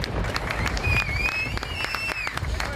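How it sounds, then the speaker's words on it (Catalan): A studio audience applauds a guest with a dense, steady wash of clapping that holds for a few seconds, with a thin whistle-like tone drifting over the crowd noise. "Un aplaudiment per Ariana Uller"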